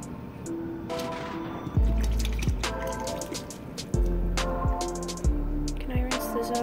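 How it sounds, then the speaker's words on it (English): Dye for a traditional Hutterite pie is poured into liquid, giving wet drips and squishy splashes in a few distinct bursts, close and fairly loud against a steady background hum. "I'm gonna put the dye in first."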